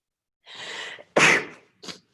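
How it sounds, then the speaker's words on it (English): One person sneezes close to the microphone, an audible breath building up into a sharp, loud burst, then a short exhale afterward. "I think I'm going to sneeze too."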